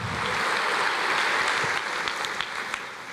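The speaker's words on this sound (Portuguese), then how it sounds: "aplauda o Senhor." A Portuguese-speaking church congregation applauds during a sermon, a broad wash of steady clapping that holds evenly and then thins slightly, with a few sharper claps standing out toward the end.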